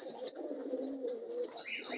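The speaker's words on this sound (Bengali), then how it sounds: "আমাদের কালদোমাটা খুব সুন্দর ডাকাডাকি করছে" A Kaldoma pigeon coos softly and repeatedly near a loft, its low murmuring calls running steadily over a faint high-pitched background hiss.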